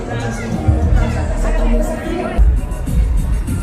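Dense crowd hubbub at an outdoor New Year's celebration in Ho Chi Minh City, steady babble of many voices with occasional louder bursts and thumps throughout.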